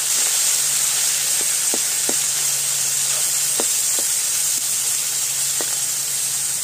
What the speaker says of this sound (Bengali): মাছ দিয়ে দিচ্ছি তেলে, অর্ধেক অর্ধেক করে ভেজে নেব।